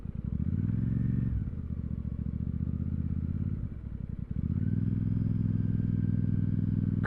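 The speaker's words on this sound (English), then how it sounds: "this is quite a bumpy road, but this bike's just eating it up." Royal Enfield Super Meteor 650 ridden over a bumpy road, its steady engine thrum loud and close with a brief dip and throttle change midway before the drone resumes, plus faint clatter and wind.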